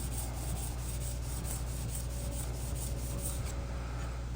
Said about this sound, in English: Now what I'm doing now is removing the old burr.